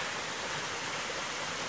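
Constant roar of a waterfall on the La Cloche Silhouette trail in Killarney Provincial Park, loud, close and steady broadband rushing water with no gaps.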